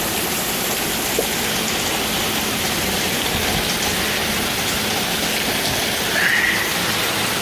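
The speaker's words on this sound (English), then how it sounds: "There. Let them get some rain." Heavy rain falls during a thunderstorm on a garden with corn plants, a dense, constant hiss of drops that stays loud and even from start to end.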